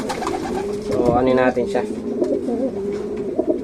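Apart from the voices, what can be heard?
racing pigeons cooing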